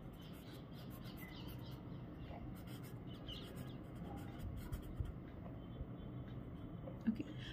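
A pen writes steadily on paper during a Class 6 geometry lesson on angles. The scratching is continuous and close, over a low room hum, with a couple of sharper taps near the end.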